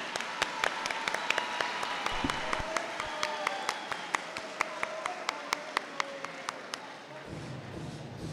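A modest school audience claps steadily for several seconds for students' zambo caporal folk dance at a folklore festival, the applause thinning out toward the end.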